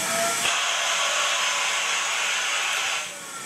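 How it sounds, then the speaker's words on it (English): A homemade vacuum chamber, sealed with tape, has air pumped out of it by a vacuum, giving a steady, loud broadband hiss and whoosh that runs about three seconds and then drops off. "Here's the vacuum."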